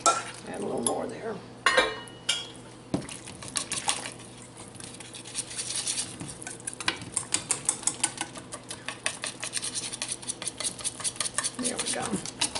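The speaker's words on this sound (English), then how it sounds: "Okay, now let me whisk this together." A whisk beats flour into hot broth in a pot, rapid rhythmic metallic clicking against the pot sides that speeds into steady close strokes, with a few louder knocks early on.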